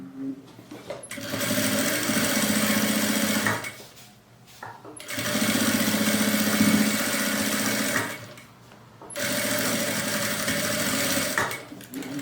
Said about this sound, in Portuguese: E a gente passa essa costura reta com o pezinho de máquina.